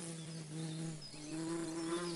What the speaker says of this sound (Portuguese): De onde será que veio essa abelha?